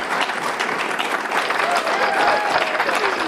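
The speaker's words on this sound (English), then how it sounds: "Listen to all the robot drones clapping in the background." Crowd applause rolls on in a dense, continuous wash of clapping, steady and fairly loud, with some voices mixed in.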